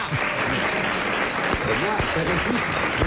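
Studio audience of a French radio comedy panel show applauding, a steady dense wash of clapping with voices talking over it throughout.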